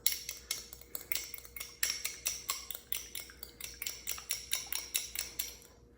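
An egg is whisked briskly in a small cup, producing a steady run of sharp, rhythmic clinking taps close up, about three per second, with no talking.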